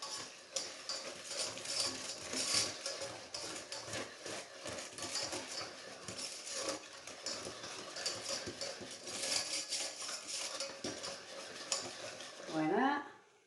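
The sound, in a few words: stirring ingredients for a no-bake Napoleon cake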